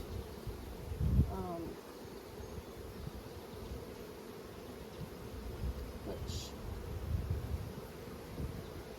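Honey bees buzzing around an open hive during maintenance, a steady dense hum throughout with a brief voice near the start.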